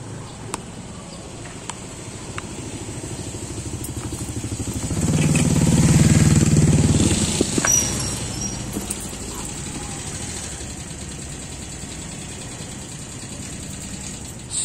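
A Motorstar Star X motorcycle with an upgraded carburetor, bored from 125 to 155, idles steadily close by, its engine swelling louder for a couple of seconds midway before settling back to a steady idle, with no talking.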